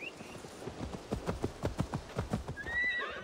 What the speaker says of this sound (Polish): Oto i ten koń właśnie.